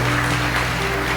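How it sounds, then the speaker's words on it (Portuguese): A church audience at a women pastor's service applauds in a brief, loud, continuous wash of clapping, with a steady low hum beneath it. "Gente, aplaude."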